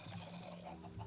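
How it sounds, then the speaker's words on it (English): Chickens clucking in the video game Minecraft, a steady low clucking murmur of several fowl that runs faintly through the short stretch with no voices over it. "I hear my chickens."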